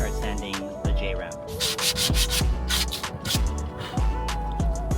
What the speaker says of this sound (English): I'm gonna pretty much finish sanding this off and then revisit when I start sanding the J-ramp.